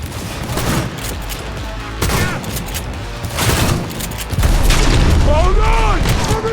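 Dense video game gunfire in Cyberpunk 2077, loud and continuous bursts with booming impacts and heavy low rumble, with voices shouting amid the fire.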